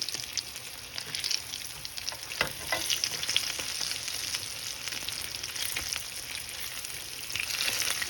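Shrimp deep frying in hot oil, a steady crackling sizzle with dense popping bubbles and occasional louder spits, continuous and fairly close, no voices.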